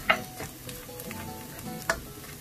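Whole spice seeds frying in oil in a pan for chicken vindaloo, a steady soft sizzle with two sharp clinks of a utensil against the pan, close up with no talking.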